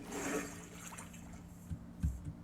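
A video game character jumps into water, a quiet splash and gurgle near the end of a faint watery background, with no talking.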